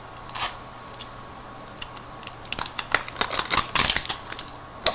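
Wrapped beauty box being opened by hand, a run of crisp crinkling and snipping clicks building into dense packaging rustle, close and alone with no talking.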